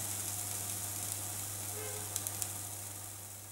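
Tunisian brik filling cooking in a pan, giving off a continuous close sizzle with a low steady hum beneath and a few faint clicks near the end.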